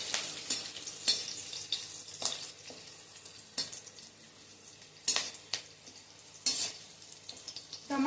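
Whole black peppercorns, cinnamon pieces and bay leaves frying in hot oil in a pan, a steady close sizzle broken by sharp scraping stirs of a spoon against the metal, no voices.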